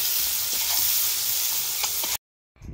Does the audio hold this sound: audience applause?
no